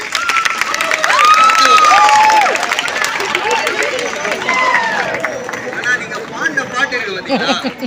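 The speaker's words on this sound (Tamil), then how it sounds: "ஒரு பெரிய கைத்தட்டல் உங்களுக்காக" A crowd claps and cheers loudly at an outdoor gathering in a park, with chatter and babble mixed through the applause as it swells early and then thins into voices.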